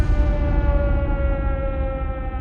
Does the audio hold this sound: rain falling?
no